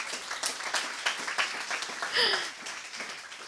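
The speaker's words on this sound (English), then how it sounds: "So applause for Leo" Scattered clapping from a small group, a brief patter of applause with a few voices murmuring underneath.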